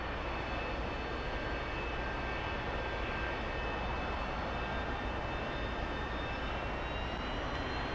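An A-4E Skyhawk jet in DCS World taxiing after landing on a carrier recovery area, its engine a steady whining roar with a high tonal hum that holds constant throughout, with no voices.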